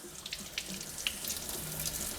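Warm water runs steadily from a tap over parts held in a sink, a continuous close hiss and splash with no talking.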